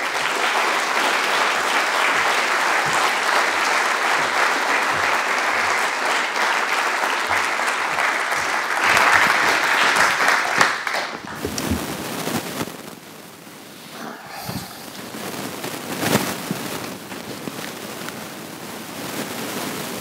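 Steady, dense audience applause fills a conference hall as two speakers are welcomed to the stage for a fireside chat, fading slightly toward the end.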